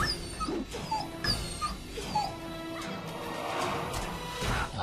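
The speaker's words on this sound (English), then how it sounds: "these are just regular wolves" Wolves in the fantasy video game Neverwinter Nights 2 whimper and yelp in short repeated cries over a clattering, busy game soundscape with occasional crashing hits.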